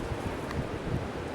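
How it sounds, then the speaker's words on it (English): Blizzard wind driving heavy snow outdoors, a steady broadband roar buffeting the microphone with rustling gusts throughout, fairly loud and continuous with no voices. "here it is, the big snow we've been waiting for, and the wind's behind it"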